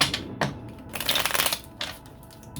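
Tarot cards being shuffled by hand, with bursts of crisp riffling and flicking at close range, loud then tapering off, no talking.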